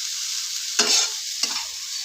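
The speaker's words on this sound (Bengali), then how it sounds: "দেখুন এইভাবে নাড়িয়ে চাড়িয়ে নিচ্ছি আমি।" Potato greens with grated coconut are stirred in a frying pan over a steady sizzle, with two distinct scraping stir strokes, close and clear, and no talk.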